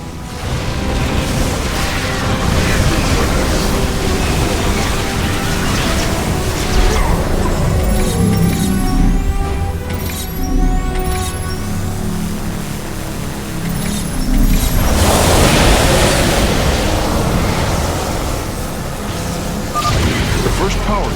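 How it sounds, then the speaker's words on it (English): StarCraft II battle with incoming fire from burrowed Crawlers, a loud continuous stream of booms, crashes and mechanical clatter, with voices speaking over the din. "Brace for incoming fire!"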